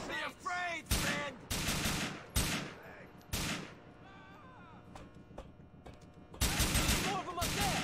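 Gunfire in GTA IV during a shootout, with sharp loud bursts of shots separated by pauses, mixed with a voice and other game noise.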